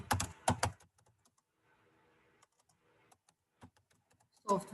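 Keys on a computer keyboard are tapped in short, quiet bursts during an MS Word lesson. A louder clatter opens and closes the stretch, with sparse soft clicks in between and no talking.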